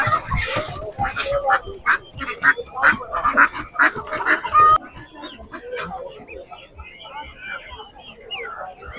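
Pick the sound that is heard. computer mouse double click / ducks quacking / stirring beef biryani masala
ducks quacking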